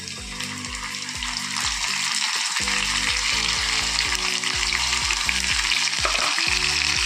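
Marinated prawns frying with onions in a pan for a mustard-poppy seed dish, a loud continuous crackling sizzle under repeated rhythmic metal scrapes and knocks of the spatula.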